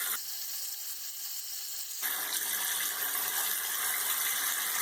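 A modified Gillette Ball Tech safety razor is rinsed under a running tap, with a steady splashing water stream starting partway through and continuing loudly to the end.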